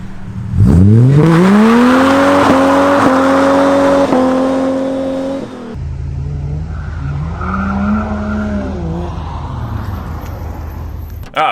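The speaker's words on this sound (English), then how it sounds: "I'll lock up for a second, and then as you stay on throttle, it'll start pegging." A 20-year-old Ford AU Falcon launches hard to test its limited-slip differential, the engine note climbing loudly with a rising whine, then dropping to a rougher, wavering rev with tire squeal and wheel spin, close by.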